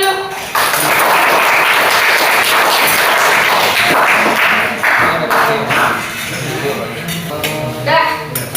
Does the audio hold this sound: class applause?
yes